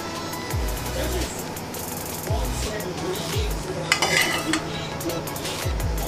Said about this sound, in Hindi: अब हम इसके ऊपर तड़का डालेंगे।